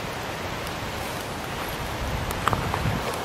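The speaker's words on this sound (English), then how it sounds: "Started raining even harder, so yeah, I'm pretty soaked." Heavy rain falls steadily on a wooded outdoor setting, a dense, even hiss throughout with a few sharper drips and patters near the end; no voices.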